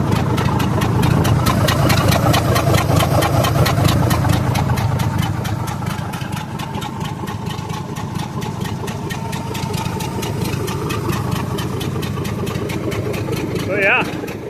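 A Navy-surplus Minneapolis Moline G705 tractor with a replacement engine idles steadily nearby, a continuous low rumble with slight knocking that drops a little in loudness midway; brief voices or noise come in over it near the end.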